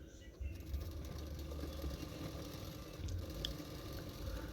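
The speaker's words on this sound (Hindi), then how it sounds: "अभी उसको पीछे की तरफ फोल्ड करते हुए सिलाई कर लूँगी।" A sewing machine hums steadily while stitching the folded-back edge of a double katori blouse's back panel, a low, continuous, fairly faint mechanical drone with no voices.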